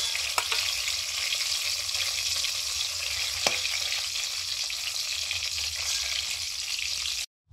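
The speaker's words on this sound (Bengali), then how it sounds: "গোটা জিরে, শুকনো লঙ্কা, গোটা গরম মশলা ফোড়ন দিয়ে পেঁয়াজ দিয়ে দিলাম" Whole cumin, dried chillies, whole garam masala and onion fry in hot oil for a chicken curry, a loud, steady close-up sizzle that runs without a break before cutting off abruptly.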